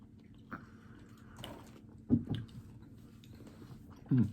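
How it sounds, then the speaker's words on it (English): Crunchy Brazilian honey candy is chewed close up, with a few soft crunching bites spaced across quiet moments and a louder crunch at the end. "Oh, yeah, a little bit of a crunch to it."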